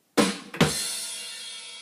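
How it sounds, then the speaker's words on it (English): A snare drum hit is followed at once by a crash cymbal struck together with a bass drum, the crash ringing out loud and close and decaying slowly on its own. "So it's a snare drum followed by a crash and a bass"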